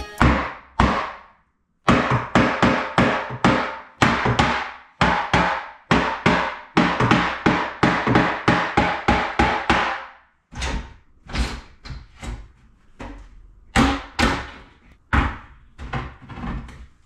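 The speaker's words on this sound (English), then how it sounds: "it's me with a hammer and a 2-inch hole saw." Hammering with a hammer on a 2-inch hole saw, a long series of sharp, loud, close knocks in quick uneven bursts separated by brief pauses, some blows landing in rapid runs.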